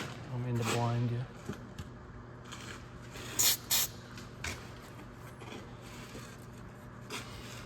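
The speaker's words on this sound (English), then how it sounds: "I'm gonna put some silicone spray on that hanger so it goes on nice." Silicone spray hissing onto a rubber exhaust hanger under a 2011 Honda Accord Crosstour 3.5L V6, a brief loud burst with a couple of short follow-up squirts, and a voice talking near the start.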